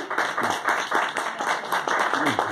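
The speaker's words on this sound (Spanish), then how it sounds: "todos vamos a dar un aplauso" Audience applause for a songwriter guest at a composers' event, a short burst of clapping with uneven pulses and some faint crowd murmur underneath.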